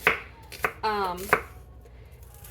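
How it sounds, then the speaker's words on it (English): A few sharp knife chops land on a cutting board, spaced irregularly, with a child's brief high singing in the distance in between. "I can just cut right here"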